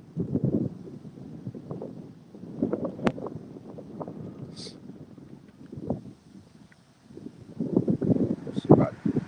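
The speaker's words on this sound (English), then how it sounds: "Wind out here" Wind blowing outdoors in Auburn, Alabama, sounding as low rumbling gusts buffeting the microphone, rising and falling in waves with a louder gust near the end.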